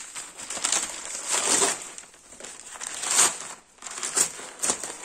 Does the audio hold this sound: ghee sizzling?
no